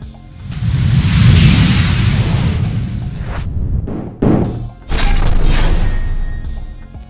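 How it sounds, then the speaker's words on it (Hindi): Fireworks set off by celebrating political party workers at Darbhanga Tower burst loudly in crackling, roaring waves, with a sharp crash near the middle and dense rumbling bursts, close and continuous. "संजय सरावगी के प्रदेश अध्यक्ष बनने पर दरभंगा टावर पर भाजपा के कार्यकर्ताओं द्वारा आतिशबाजी एवं मिठाई बांटकर खुशी का इजहार किया गया।"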